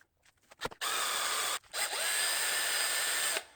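A power drill bores into metal on a car, in two sustained bursts of high, whining grinding separated by a brief pause, loud and close, with no talk.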